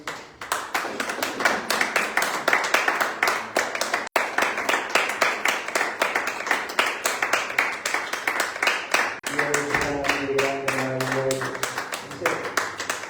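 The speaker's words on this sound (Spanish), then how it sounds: "Dale un fuerte aplauso a Dios en esta mañana" A church congregation claps at a Sunday morning service, a steady, even rhythm of many hands beating in time throughout, with a singing or speaking voice rising over the clapping near the end.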